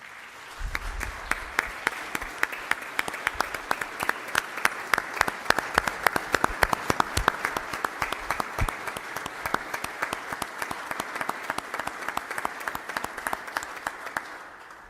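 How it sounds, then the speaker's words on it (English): Lawmakers in the North Carolina House chamber applaud the General Assembly staff, a sparse crowd whose individual claps ring out sharply and unevenly, swelling then thinning out over a sustained stretch. "Our staff here at the General Assembly deserves a round of applause"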